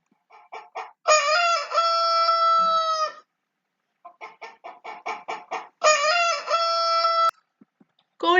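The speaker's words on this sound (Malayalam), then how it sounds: "കോഴിയാണെന്ന് നിങ്ങൾക്ക് ഐഡന്റിഫൈ ചെയ്യാൻ പറ്റിയോ?" A rooster crows twice, each long harmonic call preceded by a run of short clucks, loud and close with a quiet gap between the two bouts.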